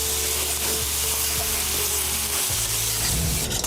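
Ground meat fries in a pan with a loud, steady sizzle and crackle that runs unbroken throughout, with occasional stirring scrapes.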